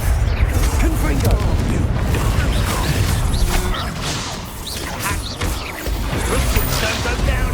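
Confringo fire spell blasts in the video game Hogwarts Legacy, loud booming bursts layered over dense, continuous combat noise that stays intense throughout.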